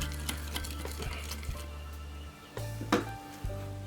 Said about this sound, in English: And we stir until the sugar totally mixed with fish sauces and lamb